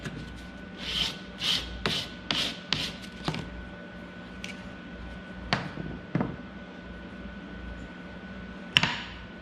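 Coarse sandpaper is rubbed by hand over a rough metal casting in a run of short, scratchy strokes that thin out into scattered scrapes and taps, close and fairly quiet, with no talking.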